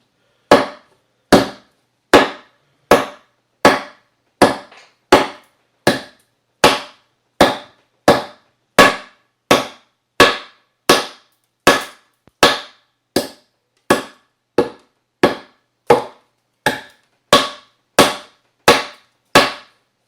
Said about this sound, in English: See how much I can get it to just bite into this wood.